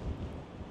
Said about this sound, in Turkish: Şu anda çok ciddi bir rüzgar çıktı.